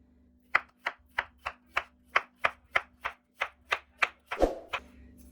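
Knife chopping peeled potatoes on a board, about thirteen crisp, evenly spaced cuts in a steady rhythm, close and clear, ending in a slightly heavier scrape.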